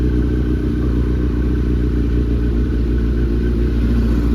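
A Kawasaki Z900 motorcycle engine runs while being ridden slowly through Gurgaon with the engine running hot. It gives a loud, constant low drone and rumble that never lets up, with no voices over it.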